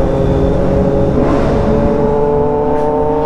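A Kawasaki Ninja superbike engine revs hard during a wheelie, a loud, steady, close mechanical drone that holds its pitch and then eases slightly toward the end.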